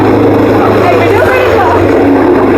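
A small motorboat engine drones steadily and loudly up close, with a brief change in its hum partway through and voices faintly mixed in.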